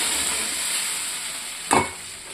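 A splash of water hits a hot pan of spiced fish curry masala, adding a short sizzling burst on top of a steady, bright frying hiss.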